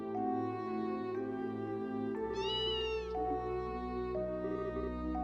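A cartoonish cat meows in the video game Trails in the Sky SC, giving several drawn-out, tonal mews, one rising and falling higher than the rest, over a steady background of game music.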